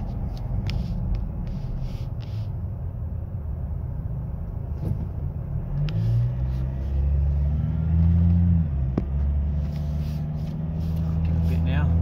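A Ford 2-litre biturbo engine in a vehicle on 33-inch tyres pulls at about half throttle, a low steady drone that swells and rises in pitch midway, under a voice.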